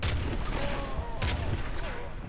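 Gunfire in the video game Modern Warfare 3: a couple of sharp, loud shots ring out over a dense, continuous game soundscape, with a player's voice speaking in between.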